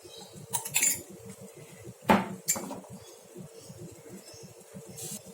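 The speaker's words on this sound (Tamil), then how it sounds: "இப்போ ஒரு பேன் ஒன்று ஸ்டவ்வில் வச்சுருக்கேன். அதில் வந்து கொஞ்சம் ஆயில் சேர்த்துக்கலாம்." Metal pan and utensil clinks ring out on a home kitchen stove as the pan is set down and cooking oil is added, a few sharp clanks and scrapes separated by quiet stretches, with no talking.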